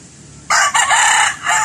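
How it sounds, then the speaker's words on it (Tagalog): A red gamecock of fighting-cock type crows loudly and close by, one strong call in two bursts that begins abruptly after a short quiet lead-in. "Manok na pwedeng pang sabong"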